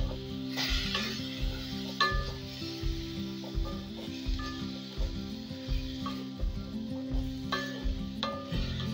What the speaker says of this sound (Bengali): এবার এর সঙ্গে খুব ভালো করে এটাকে মিশিয়ে নেব।